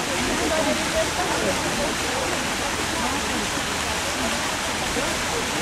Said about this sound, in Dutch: Hier zijn de twee watervallen nog beter zichtbaar.